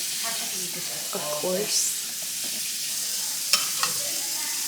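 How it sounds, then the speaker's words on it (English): Green chilies go into a sizzling frying pan with onions, giving a steady broadband hiss of frying with stirring scrapes and a couple of sharp clinks, while a voice speaks briefly. "Gonna add the green chilies."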